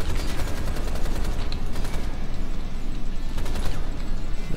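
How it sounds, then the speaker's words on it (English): Rapid automatic gunfire in the video game Rise of the Triad, fired at walls in steady, fast repeating bursts, loud and close, with almost no talking. "I should just start shooting walls."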